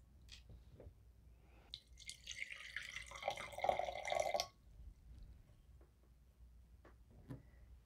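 Water poured into a container holding an orchid during a transfer to water culture, a soft splashing trickle lasting a couple of seconds amid a few faint drips and small handling noises in a quiet room.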